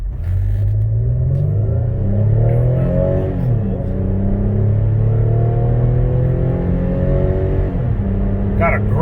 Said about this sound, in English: Got a great little growl to the engine.